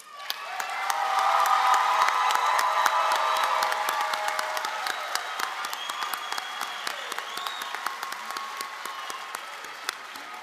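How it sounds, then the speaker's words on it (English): An audience at a college commencement ceremony bursts into sustained applause for the graduates, loud clapping with some cheering that swells, then slowly thins out over about ten seconds. "I think it's probably also a good time to applaud for all the graduates."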